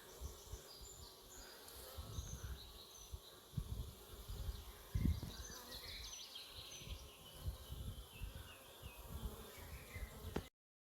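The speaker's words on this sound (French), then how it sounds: "On vient de tourner la ruche là. Du coup, c'est vrai qu'elle se réexcite." A honeybee swarm buzzes around a freshly turned hive outdoors: a dense, continuous hum of many bees close by, with individual bees passing near and a faint bird call in the background.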